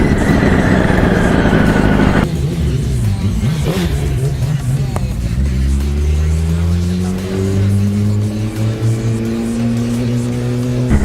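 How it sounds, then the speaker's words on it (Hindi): A Yamaha R1 sport motorcycle fitted with a loud Yoshimura exhaust revs hard at first, then drops to a rumbling idle before climbing again in rising, layered engine tones, close and loud throughout. "तो योशीमुरा का एग्जॉस्ट बहुत सूदिंग है और सुपर एग्रेसिव है।"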